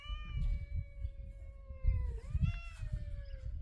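A cat meows in a long, drawn-out, wavering call with a brief break partway through, close and fairly loud over low rumbling background noise on an off-grid desert homestead.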